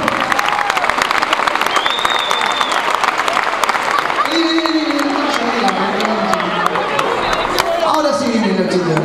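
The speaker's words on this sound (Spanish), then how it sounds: "fuerte aplauso para él." Loud, dense applause and cheering from a theater audience at a live comedy show in Ituzaingó, with music playing and voices over it throughout.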